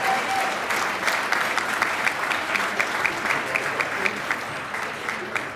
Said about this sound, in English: Please give yourselves a huge round of applause.